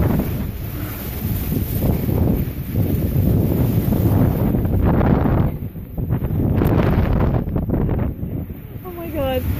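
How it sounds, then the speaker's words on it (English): Strong wind during a thunderstorm buffets the microphone as a loud, steady roar with gusting swells that dip briefly midway, while people talk over it. "Just a lot of wind."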